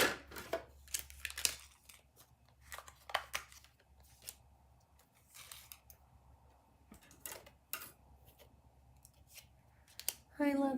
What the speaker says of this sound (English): now I'm just going to cut these out